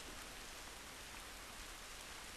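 Steady, dense rainfall in The Last of Us Remastered, a continuous even hiss of rain on surfaces with no breaks, very faint and alone.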